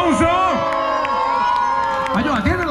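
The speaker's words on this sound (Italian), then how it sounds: "me lo fate sentire un applauso" A crowd at a Carnival street party in Torre del Greco cheers, whoops and claps continuously, with children's shouts mixed in and a sung or amplified voice running through the noisy, close festive din.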